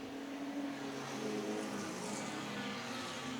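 Production cars pull away together from a race start at the Collie circuit as a steady, distant roar of several engines builds slightly, a broad continuous drone with no clear single car standing out.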